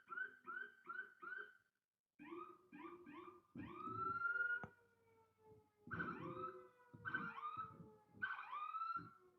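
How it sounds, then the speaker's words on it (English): An ambulance siren wails in repeating rising and falling tones, loud and close, with a brief gap and an engine rumbling underneath as it passes by a house. "There's like a ambulance going right by my house."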